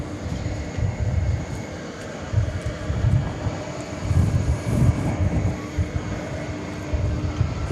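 Continuous roar of jet aircraft engines at DFW Airport at night, a steady broad rumble with fluctuating loudness and no speech over it.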